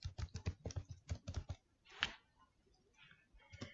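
Rapid bursts of keystrokes on a computer keyboard while code is typed in R Studio, close and crisp, followed by a sharper single click and a few softer, sparser taps.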